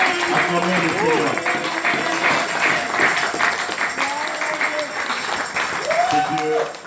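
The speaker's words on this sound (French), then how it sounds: "nous allons acclamer très fort le Seigneur" A church congregation at a convention applauds and cheers, steady clapping and crowd noise throughout, with voices rising over it and fading slightly near the end.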